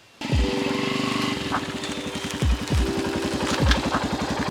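A motorcycle moves slowly along a rough path through fields with a steady, close engine putter. Its loud low-pitched chugging carries faint rattles and a few short revs, with no talk over it.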